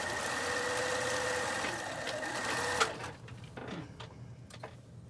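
A sewing machine stitches down a twice-folded hem on a cloth face mask, running in a steady rapid whirring rhythm for nearly three seconds before stopping, followed by quieter handling clicks and fabric rustle.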